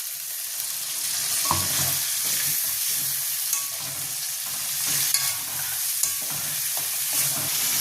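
Potatoes fried with turmeric, chili, cumin and chicken masala powders plus a little sugar, a loud close sizzle under repeated scraping stirs of a spatula, with no voices.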